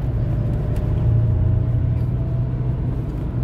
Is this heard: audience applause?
no